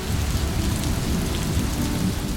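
Steady rain falls on the open courtyard of a traditional tiled house with a central tulsi platform, a dense, even hiss with low rumbling underneath that may be distant thunder, continuous and without voices.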